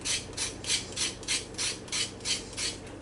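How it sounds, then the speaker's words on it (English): Small carrots scraped with a knife in a kitchen, a steady run of eight rasping strokes in even rhythm, close and clear with no talking. "And now we'll do these lovely little carrots. I'm just going to scrape them just a little bit"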